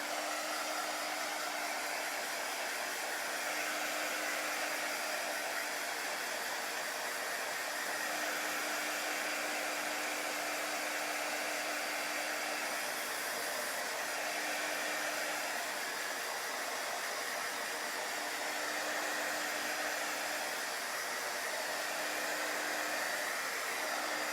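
A hair dryer blowing steadily on chalk paste over a craft project, a loud continuous whooshing hum that holds without a break, no voices.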